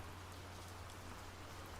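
Steady rain falling outdoors in a forest, a dense, even patter that holds at a constant, fairly faint level throughout with no voices.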